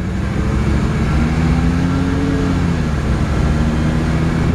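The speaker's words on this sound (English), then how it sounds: "Engine runs perfect." A 1966 Chevrolet Impala engine idles steadily nearby, a continuous low rumble with a faint rising and falling tone, loud and alone with no talking.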